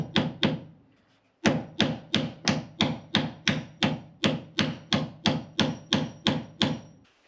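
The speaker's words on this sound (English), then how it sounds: "I'm going to go ahead and just nail these on with 3-inch galvanized joist hanger nails" Hammering 3-inch galvanized joist hanger nails into garage trusses: two quick blows, a pause, then a steady run of about sixteen loud, evenly spaced ringing strikes close by.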